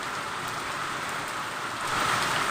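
Heavy rain pours down in a steady, dense hiss that swells slightly louder toward the end, with no voices.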